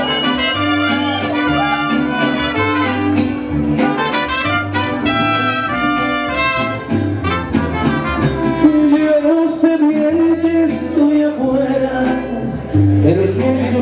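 A youth mariachi band plays a song at a birthday celebration, with strummed guitars, bass and brass under sung melody, full and loud throughout.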